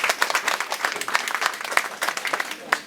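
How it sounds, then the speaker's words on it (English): A short burst of audience applause welcoming a speaker at a session for women entrepreneurs, a small crowd clapping in quick uneven claps, moderately loud and close, with no voices over it. "Please give a huge round of applause."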